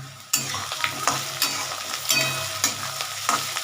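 Whole cardamom pods and cinnamon frying in hot oil, with a steady sizzle and crackle and repeated stirring scrapes at a regular rhythm. The sounds are close and fairly loud, and no one speaks.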